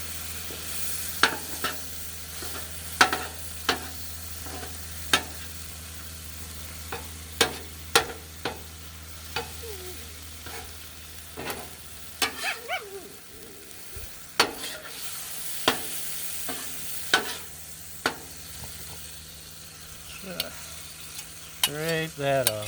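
BBQ jackfruit sizzles steadily on a hot griddle while a metal spatula scrapes and taps it in sharp, repeated strokes, close and fairly loud.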